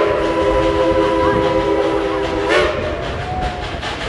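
A steady train whistle at Dollywood holds a sustained chord that bends in pitch partway through, over a constant rumbling background.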